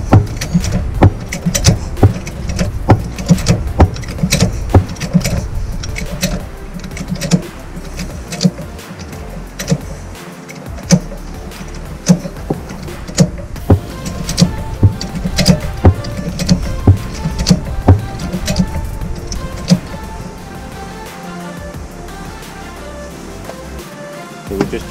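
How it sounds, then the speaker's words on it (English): A caravan is jacked up for a wheel bearing repack, with repeated close clicks and ratcheting knocks from the jack in an uneven rhythm and brief speech between strokes. "go ahead and jack the caravan up"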